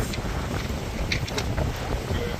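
Strong wind buffets the microphone in a steady, loud roar at a high-wind off-road race run with an FJ Cruiser, with no clear talk over it.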